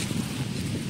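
Wind blowing across the Nandan Pahad hilltop in Deoghar under a shady peepal tree, a soft, steady rushing with low buffeting gusts against the microphone, fairly faint and without talk.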